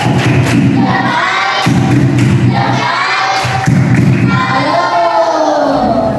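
Students performing the tepuk salut clapping routine in class, with rhythmic blocks of clapping and thumping alongside loud, chanting children's voices.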